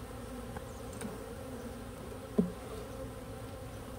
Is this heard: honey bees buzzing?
yes